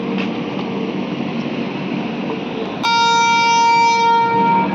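An ICF-coach superfast express running at speed, a steady rumbling rush of the train that is joined partway through by a loud, sustained horn blast sounding to the end.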